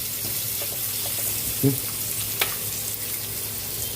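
Onion frying with garlic in a pan makes a steady close sizzle throughout, with a couple of brief stirring clinks along the way.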